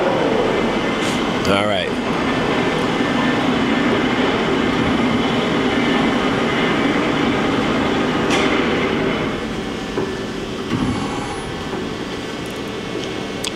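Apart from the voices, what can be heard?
Johnford ST-40G-CF CNC lathe spindle running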